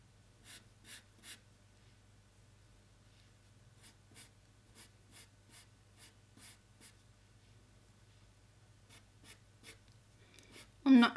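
White pastel pencil sketching on paper, a series of short, dry scratchy strokes in quick bursts with pauses between, close and quiet over a low hum, ending in a loud rustle.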